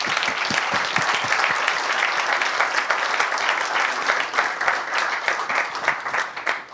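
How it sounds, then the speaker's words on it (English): Lecture audience applauding, a sustained crackle of many hands clapping close by, with some individual claps standing out before it thins toward the end. "just give another big hand of applause because they deserve this"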